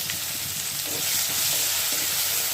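Coconut spice paste sizzles in hot oil in a continuous, close, bright frying hiss with slight surges, and no one speaks.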